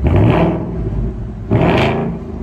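A 2024 Ford Mustang Dark Horse with a 10-speed, revved remotely while parked: two loud, throaty engine swells, a long rev at the start and a second one about halfway through, with nobody talking.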